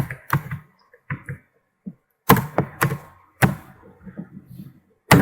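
Keys clack on a computer keyboard while text is entered into an Excel cell, in short irregular bursts of sharp taps and clicks with pauses between, close and fairly loud.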